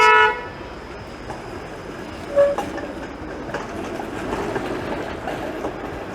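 A Toronto streetcar sounds a short horn toot at the start and a brief tone a couple of seconds later, heard over steady city street noise on Parliament Street during the Cabbagetown festival.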